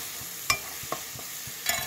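Garlic frying in a pan for fried rice, a soft, steady sizzle with a few sharp clicks of a spatula against the pan, heard alone.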